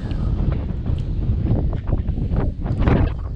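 Strong wind blowing outdoors at Kalmar by the sound, buffeting the microphone in loud, gusty rumbles that roar continuously with no voices.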